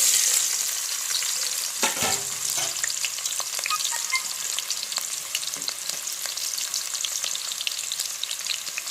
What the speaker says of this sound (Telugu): అట్లా ఒకసారి ఉల్లిపాయలను వేగనివ్వండి.